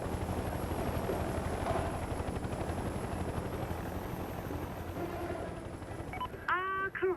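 Helicopter in the video game Mercenaries 2, a steady rotor and engine drone held at constant loudness, with brief electronic beeps near the end.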